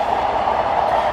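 Model railway locomotives idling on a museum layout in Greeley, Colorado, a steady loud rumbling hum that holds constant and unbroken, with no voices.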